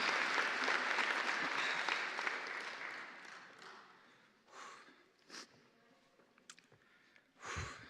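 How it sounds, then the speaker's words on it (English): An audience at a college convocation ceremony applauds loudly at first, then the clapping thins out and fades, leaving a few scattered claps and small noises. "You can clap."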